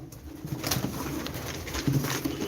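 A tumbler pigeon coos softly at a live pigeon auction, low repeated throaty calls rising over a faint background hum with no voices.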